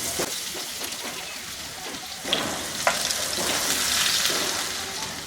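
Chopped onions and cumin frying in hot oil, a steady close sizzle with occasional stirring scrapes and crackles, moderately loud with no talking.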